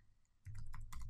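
Soft keyboard typing on a computer, a short burst of quiet, close key clicks after a near-silent start.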